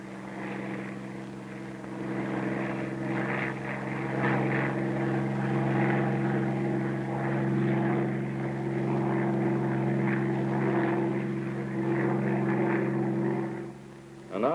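A Bell P-39 fighter plane's engine drones steadily in flight, a continuous close propeller hum with a rough buzzing edge throughout.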